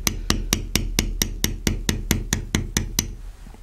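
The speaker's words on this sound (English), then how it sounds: "The shorter your taps and the slower you move your tool, the smoother your beveling will be." A mallet taps a leather beveling tool in about a dozen short, even knocks at a steady rhythm, close and crisp, then stops.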